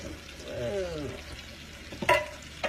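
Scallops cooking in a pan over medium-high heat, giving a soft steady sizzle with a brief scrape or clink of a utensil partway through, no speech.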